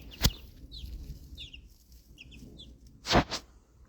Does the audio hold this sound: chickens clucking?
yes